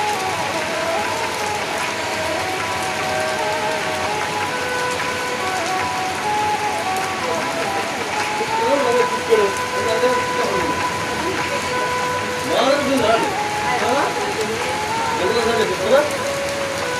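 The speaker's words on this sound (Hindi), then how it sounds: "तो आज हमारे यहाँ हो रही है बारिश" Steady rain in the Himachal mountains patters and hisses throughout, with a few faint voices and scattered outdoor village sounds rising now and then.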